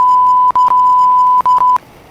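A steady high-pitched censor bleep tone runs throughout, broken by a few brief gaps, loud and alone with no other sound.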